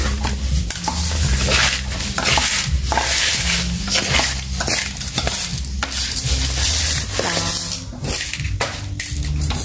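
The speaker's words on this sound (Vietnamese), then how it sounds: "Này ốp cá biển chuẩn bị chiên luôn nha." Sea fish frying in a pan in a home kitchen, a steady loud sizzle running throughout with clinks of utensils and stirring scrapes against cookware, no talking.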